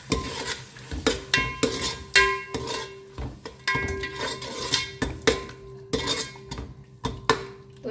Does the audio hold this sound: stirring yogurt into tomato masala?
yes